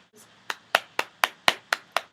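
Eight sharp, evenly spaced claps ring out one after another in a quiet room, each crisp and close with a brief decay, standing alone without talk.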